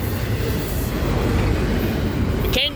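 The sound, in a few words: train passing a road crossing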